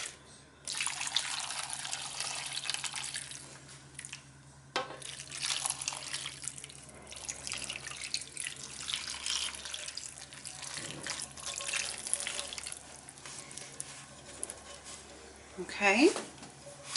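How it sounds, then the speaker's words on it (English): Chuck roast juices are poured into a pot in several splashing, trickling bursts with pauses between, close by, with some quiet talk in places. "I'm going to dump the juices in here"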